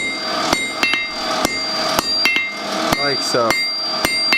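Hammer blows on metal over an anvil while forging a two-sided taper ring out as sharp, bright, evenly spaced strikes, about a dozen in quick rhythm, close and loud, with a brief spoken remark in between.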